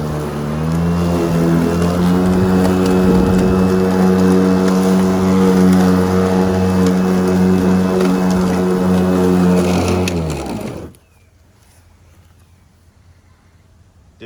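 Makita 36V self-propelled battery lawn mower cutting grass: a loud, steady, close motor whine holds for about ten seconds, then cuts off abruptly, leaving near silence.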